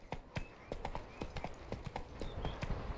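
Roach, a horse in The Witcher 3: Blood and Wine, gallops with a steady, loud clip-clop of hooves that runs throughout, joined by faint game sounds.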